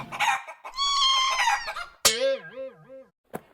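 A cartoon hen in a drawing room gives a burst of clucks followed by a long drawn call and wavering squawks, with short pauses between the sounds and no talking.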